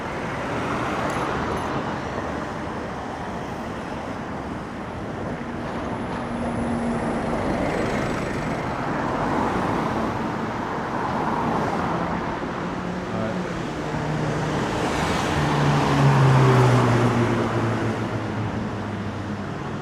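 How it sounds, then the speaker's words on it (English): Steady London street traffic with cars and vehicles passing, a continuous mid-distance roadway rumble that swells and fades. "We're going to go away from the street and the noise of the traffic."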